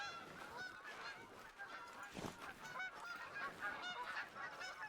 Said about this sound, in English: Oh, just more snow geese.